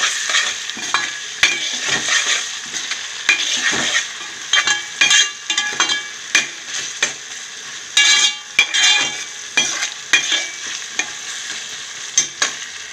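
Ginger-garlic paste and garam masala paste fry in a pan with a steady bright sizzle, while a spatula scrapes and clinks against the pan in repeated strokes throughout.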